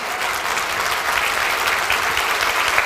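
A church congregation applauding during a sermon, a dense, even wash of many hands clapping at once, loud and sustained throughout with no voices standing out.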